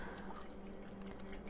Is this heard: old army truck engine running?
no